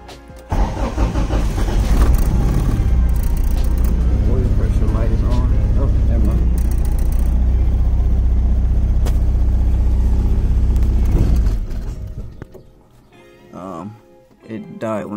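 A Honda Civic with a freshly swapped cylinder head cranks and starts, running with a loud close rumbling idle for several seconds before stalling and dropping away, with a voice talking afterward.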